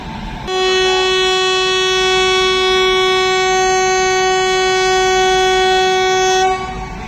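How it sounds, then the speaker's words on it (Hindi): Bikaner–Dadar Ranakpur Express pulling away, its horn sounding one long, loud, steady blast lasting about six seconds over a low rumble of the moving train. "बीकानेर दादर रणकपुर एक्सप्रेस, जो अपने गंतव्य की ओर चल पड़ी है"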